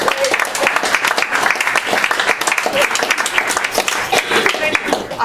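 Audience applause following a poem at a Bloomsbury poetry night, a close, lively burst of many hands clapping steadily with a slightly uneven rhythm, loud and unbroken for several seconds.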